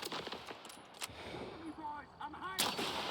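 Gunfire in the video game S.T.A.L.K.E.R. 2, a few sharp shots cracking out against background noise over about three seconds.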